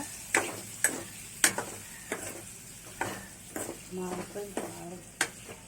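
Paneer pieces fried lightly in oil, with a soft sizzle broken by repeated tapping clicks of a spatula turning the cubes in the pan, close and moderately quiet.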